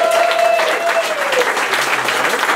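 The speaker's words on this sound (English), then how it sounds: "let's have a big round of applause again for the new Burdock Music Hall" A crowd at a live music hall claps and cheers loudly and continuously, with a voice briefly audible over the applause.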